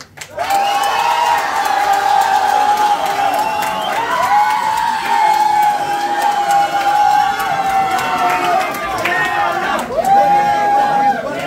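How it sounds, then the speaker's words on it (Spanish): Loud, sustained cheering and applause from a talent-show audience, with shouts and chatter over dense crowd noise for the whole stretch and a lead voice or music riding on top. "Aplausos también para el grupo y para él, Eric"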